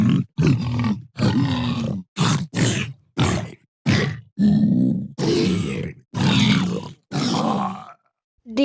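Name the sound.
voice imitating zombie sounds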